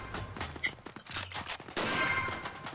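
Gunfire from the hunting video game Cabela's Dangerous Hunts 2011, with several sharp shots scattered through a busy game soundscape, followed by a louder, denser burst near the end.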